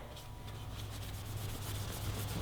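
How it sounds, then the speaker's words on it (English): A cloth rubs back and forth along a stainless steel header on a Kawasaki Ninja 400 exhaust, making a soft, close, steady scrubbing that grows a little stronger toward the end. "Don't be afraid to wipe the OE header a little bit too, the stainless header"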